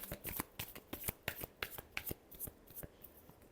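Tarot cards are shuffled by hand in a rapid series of crisp riffling flutters and taps, close and quiet, with no talk.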